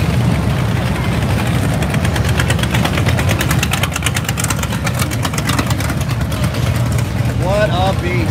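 BMW motorcycle at a Biketoberfest rally, its engine idling with a steady low rumble throughout, loud and close, with people talking over it.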